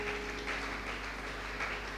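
A church congregation claps together in steady, dense applause for Jesus, a continuous sustained ovation without speech.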